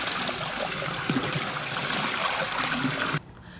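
Tap water runs steadily as vegetables are rinsed for traditional northern Shaanxi pickled salsify with carrots, a continuous splashing trickle close by that cuts off abruptly near the end.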